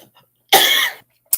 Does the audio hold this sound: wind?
no